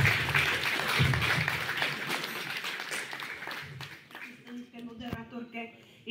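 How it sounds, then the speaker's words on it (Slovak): Audience applause for the Senior Klub Opoj folk ensemble at its tenth-anniversary celebration, broadband clapping that is steady for about four seconds and then thins into scattered claps, with voices mixed in. "tak poprosím ešte jeden veľký potlesk pre našich oslavencov"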